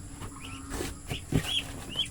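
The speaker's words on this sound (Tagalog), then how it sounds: "Tapos ito yung ating mga pato na ano" Ducks kept on a small farm, with several scattered quacks and short calls at moderate distance over a steady low hum of background noise.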